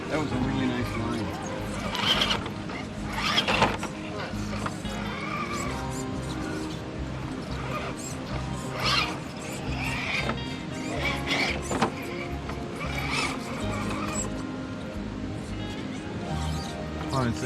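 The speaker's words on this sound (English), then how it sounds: "Squeaky sound was bothering me." An Axial SCX10 II, Capra, TRX-4 Sport or Gatekeeper RC crawler truck squeaks repeatedly as it climbs a muddy trail in the rain, short high squeals rising over steady motor whine, with people talking throughout.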